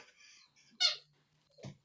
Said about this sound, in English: that squeaky toy just drives me nuts